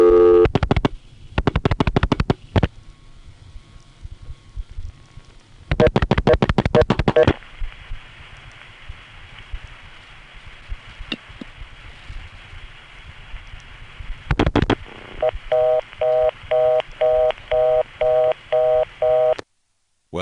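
A 1970s Manassas, Virginia telephone exchange line carries a steady reorder tone under bursts of trunk signaling, rapid tone pulses and clicks, with a repeating beeping pattern near the end.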